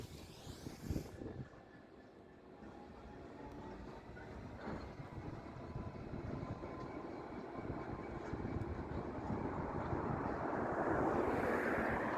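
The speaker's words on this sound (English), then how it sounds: "the Class 66 pulled a long train of empties beyond the bridge" A Class 66 locomotive pulling a long train of empty freight wagons rumbles past on the East Coast Main Line with a steady broad roar that slowly grows louder, steel wheels grinding under wind noise.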